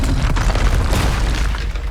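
A Confringo fire spell detonates in the Hogwarts Legacy video game as a loud, heavy boom. Dense rumbling low end fills the full two seconds, with no speech.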